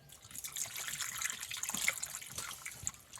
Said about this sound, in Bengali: একটু জল দিয়ে দেবো এতে।